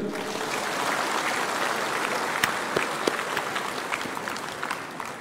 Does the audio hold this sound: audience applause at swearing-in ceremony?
yes